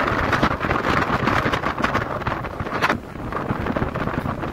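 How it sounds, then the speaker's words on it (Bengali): Strong gusting wind buffets the microphone on the Janki Jhula suspension bridge over the river in Rishikesh, a loud continuous rumbling roar that swells and dips. "হাওয়া দিচ্ছে।"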